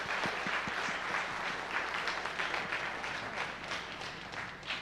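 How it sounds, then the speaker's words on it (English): Sustained audience applause fills a school band concert hall, dense and steady clapping from many hands throughout, with a few sharper individual claps standing out early on. "Parents that are out there, honestly, we should give you a round of applause first."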